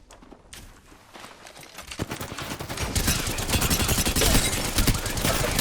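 In the Apex Legends video game, gunfire builds from scattered shots into dense, rapid automatic bursts that grow louder and fill the second half of the clip.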